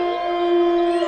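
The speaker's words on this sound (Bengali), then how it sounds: "হঠাৎ শিয়ালের ডাকে রনির ঘুম ভেঙে যায়।" A jackal howls in a spooky story scene: one loud, drawn-out tonal cry with a steady pitch, heard alone.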